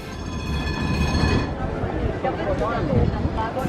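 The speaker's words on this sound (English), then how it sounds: "time to get on the tram to central Bremen" A tram running toward central Bremen rumbles steadily, with rail clatter and brief wheel squeals, while a person talks over the ride.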